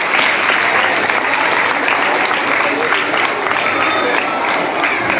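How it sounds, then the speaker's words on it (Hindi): Dense, steady applause from a crowd at a school flower-garlanding (gulposhi) ceremony honouring society members and teachers, filling the whole stretch close and loud without letup. "जोरदार तालियां आप लोगों को।"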